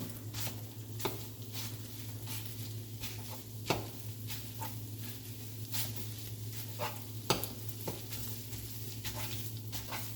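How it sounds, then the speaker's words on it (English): Italian sausage sizzling steadily in a pan while a spatula breaks it up, with scattered scraping taps and clicks over the constant frying hiss and a low hum. "while you're cooking the sausage. Use your spatula to break it up."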